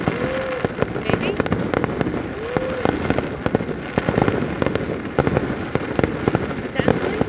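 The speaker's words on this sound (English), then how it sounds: "just a lot of crackers." Fireworks and firecrackers burst on the Fourth of July in a dense, irregular string of sharp cracks and pops, some near and some farther off, with voices talking underneath and a couple of short rising whistles.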